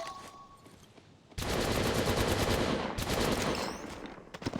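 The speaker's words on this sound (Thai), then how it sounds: "มีทีมที่สองกำลังยิงใส่เรา" Enemy gunfire in Apex Legends Mobile erupts after a quiet moment, a loud, dense stream of rapid automatic shots that continues nearly unbroken to the end, with a brief dip partway through.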